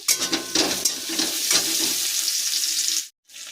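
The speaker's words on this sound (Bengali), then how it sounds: "পেঁয়াজটা সামান্য ভাজা হয়ে যাক, আদা দিয়ে দিয়েছি।" Onion, ginger and garlic sizzle in hot oil, loud and close with a few utensil scrapes and stirs, then fading and briefly cutting out near the end; no voices.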